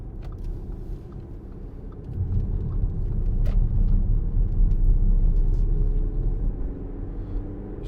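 A 2015 Audi Q5 2.0 TDI S line Plus quattro diesel on Goodyear tyres drives steadily, its low engine and road rumble swelling slightly as it picks up speed, heard from inside the cabin with no talking.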